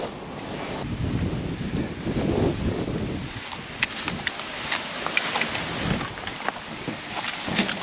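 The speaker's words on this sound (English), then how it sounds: "It is more than a little windy outside." Steady, strong wind roars and buffets the microphone with gusty low rumble throughout, no voices.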